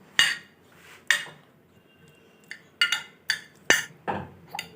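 Cheese is mixed in a bowl for chilli cheese toast, with a spoon clinking sharply against the bowl in a series of irregular metallic taps, close and fairly clear, with no talking.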